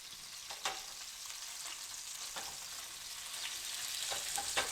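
Salmon fillet searing in a hot pan gives a steady broadband sizzle with occasional sharper spits and crackles, fairly close and holding even throughout, with no talking.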